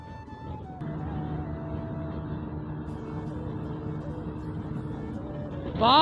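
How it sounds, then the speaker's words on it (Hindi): Several motorbike engines, including Bajaj Pulsars, rumble steadily together, revving as the group rides off, with a louder burst at the end. "तो गाड़ियां अब निकल चुकी है हमारी सारी।"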